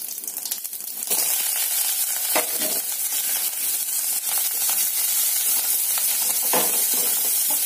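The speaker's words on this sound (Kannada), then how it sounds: "ಒಗ್ಗರಣೆ ಚೆನ್ನಾಗಿ ಫ್ರೈ ಆಗಿದೆ" Onion, garlic, mustard seeds, a dried red chilli and curry leaves hit hot peanut oil for a South Indian tempering, bursting into a loud, steady sizzle with faint stirring scrapes and crackles.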